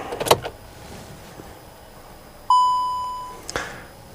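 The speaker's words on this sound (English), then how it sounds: "I'll turn the ignition off as well, turn it back on" A VW Golf Mk7 with its ignition switched off and back on: a short clunk, then a single clear electronic chime that rings and fades over about a second, followed by another soft click.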